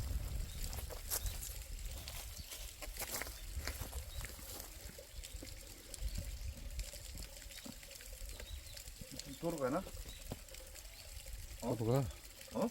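Water poured into a small backyard fish pond, a soft continuous splashing and trickling under steady outdoor background noise, with people talking nearby.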